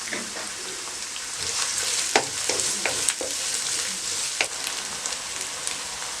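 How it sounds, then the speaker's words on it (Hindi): Onions fry in a pan with a steady, dense sizzle and crackle, broken by occasional sharp pops and stirring clinks close up. "अब आपने प्याज को फ्राई करना है।"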